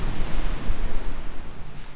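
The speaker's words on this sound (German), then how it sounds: "jetzt hier der ganze Strand überspült, meterhohe Wellen, mega windig, geht richtig ab" Big surf crashing over a beach on the Sicilian coast in strong wind, a steady roaring wash of breaking waves with heavy low wind buffeting on the microphone, close and loud throughout with no voices.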